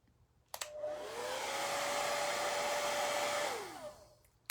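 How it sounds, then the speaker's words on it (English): A hair dryer whirs on abruptly, runs at a steady high-pitched roar for about three seconds, then winds down as it switches off. "let me hit that with a hairdryer right quick"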